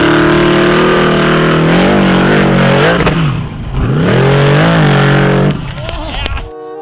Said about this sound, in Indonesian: ada mobil hill climbing